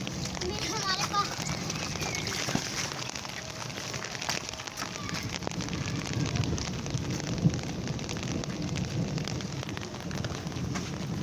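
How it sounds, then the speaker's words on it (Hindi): Steady rain pours down in Rawalpindi as a constant broad hiss with small patters and splashes close by, while people talk underneath. "आपके कंट्री में बारिश हो रही है।"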